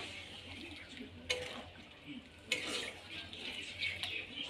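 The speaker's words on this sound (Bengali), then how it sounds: "দিয়ে ভালো করে নেড়ে নেব।" Pointed gourd curry simmering in milk gets stirred in a pot, soft scraping and spoon clinks over a low bubbling hiss, two sharper knocks against the pan standing out.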